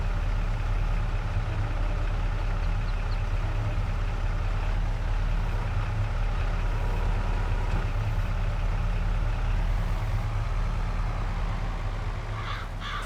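A tractor engine in Farming Simulator 22 drones steadily at a low idle-like rumble, constant and fairly loud, with occasional faint higher chirps above it.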